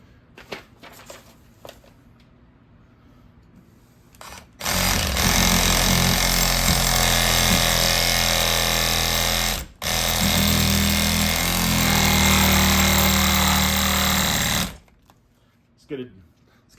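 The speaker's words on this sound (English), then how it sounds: "we're going to use our M12 Milwaukee hacksaw. We'll start by cutting the head" A Milwaukee M12 cordless hacksaw cuts into the head of a 3 lb Pittsburgh dead-blow hammer, its loud buzzing reciprocating drone running about ten seconds with a brief stop, after quiet handling noises and ending in a short clatter.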